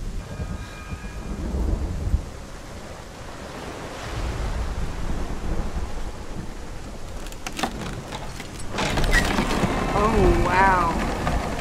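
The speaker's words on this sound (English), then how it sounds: "Wow, I love this rain effect." Rain and thunder roar as an ambient weather effect in Hellblade: Senua's Sacrifice, with a steady wash of rain, deep rolling rumbles and gusting wind building louder toward the end, while a person speaks briefly over it.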